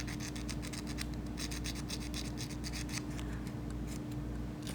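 Sandpaper rubbing a freshly cut resin bezel piece to smooth its rough edge, a steady run of close, quiet scratchy strokes with a low background hum.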